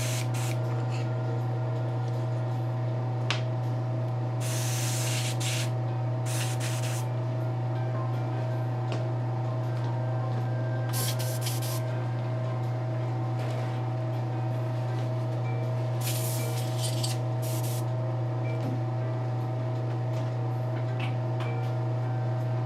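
An airbrush lays a base coat of paint on a Firestar custom statue, giving several short hissing bursts of spray over a steady low hum that runs throughout.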